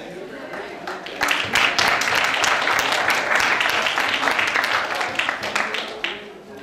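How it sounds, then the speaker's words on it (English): Conference audience applauding the moderator at an international teachers' conference, a full room of clapping that swells in after a quieter start, holds steady and loud, then tapers off at the close. "And still the round of applause for our amazing moderator."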